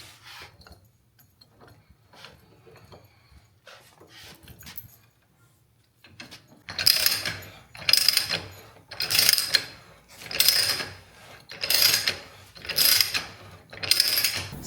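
A VEVOR ratchet pipe threader cuts threads onto a pipe, quiet handling at first, then a loud, regular series of about seven ratcheting, grinding strokes with short pauses between them.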